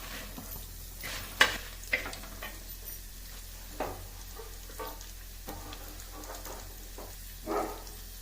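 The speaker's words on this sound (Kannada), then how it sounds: "ಎಣ್ಣೆ ಕಾದ ನಂತರ ಒಂದು ಹತ್ತರಿಂದ ಹನ್ನೆರಡು ಬ್ಯಾಡಿಗೆ ಮೆಣಸು ಹಾಕ್ಕೊಂಡ್ಬಿಟ್ಟು ನಂತರ ಸ್ವಲ್ಪ ಒಂದು ಸ್ಪೂನ್ ಆಗೋಷ್ಟು ಜೀರಿಗೆ ಹಾಕ್ಕೊಡ್ಬೇಕು" About ten to twelve dried byadagi red chillies and a spoonful of cumin fry in hot oil, giving a quiet, steady sizzle with several sharper crackles and stirring scrapes, close by and without talk.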